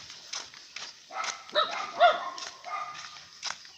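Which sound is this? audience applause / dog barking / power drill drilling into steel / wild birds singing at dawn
dog barking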